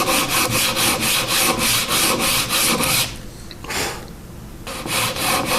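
A wooden chess knight held in a clamp is hand-sanded with 100 grit sandpaper: quick, steady back-and-forth scratchy strokes, close up, pausing briefly before the rhythmic rubbing resumes.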